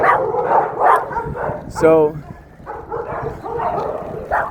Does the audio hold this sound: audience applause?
no